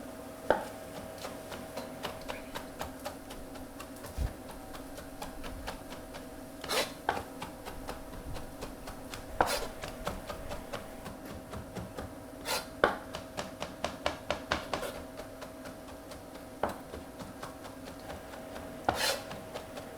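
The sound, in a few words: chopping mushrooms with a knife on a chopping board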